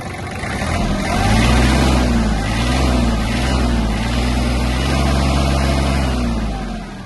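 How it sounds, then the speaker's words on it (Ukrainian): The small diesel engine of a Japanese Kubota GL-260 mini tractor runs steadily and loudly, rising slightly as it is throttled up, then holding an even, continuous drone. "Дуже чиста робота двигуна, рівно тихенько"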